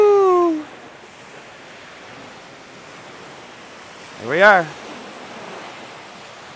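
Waves washing onto a sandy Lake Ontario shore by a break wall make a steady, wide surf hiss throughout, while a person speaks briefly at the start and again near the end.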